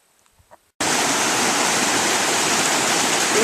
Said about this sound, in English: When you hear Obsidian Falls, this is the top of Obsidian Falls.